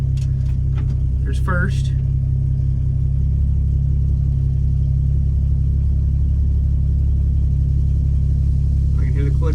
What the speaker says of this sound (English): I can hear the clutch engaging.